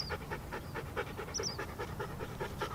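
A Siberian husky being trained to sit pants in quick, steady rhythmic breaths close to the microphone, with a faint squeak or whine partway through.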